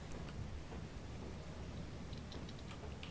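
A dense, steady roar of rain and rumbling thunder from a storm in a video game, loud and continuous with no talk over it.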